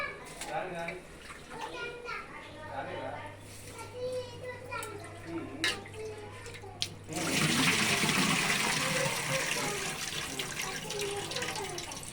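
Water pours in a steady rushing stream into a pot of rice, loud and close, following a stretch of background voices and kitchen clatter.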